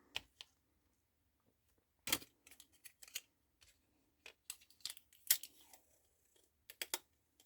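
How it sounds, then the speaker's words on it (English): Adhesive tape is pulled and pressed onto a handmade paper folio from a kit, a string of short crisp rips and crackles in irregular bursts, close and fairly quiet, with no voices. "I'm going to put tape on this."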